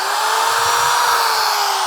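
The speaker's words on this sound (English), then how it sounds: "So I just have my drill plugged in here." An electric drill plugged into a PryMAX 2200W portable power station runs steadily, giving off a loud, continuous high whine with no pauses.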